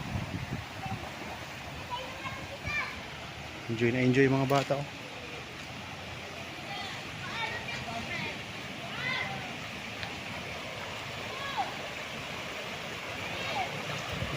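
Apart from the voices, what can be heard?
river flowing beside a property in Pangil, Laguna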